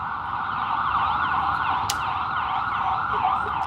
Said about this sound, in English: I didn't even know we had this many ambulances.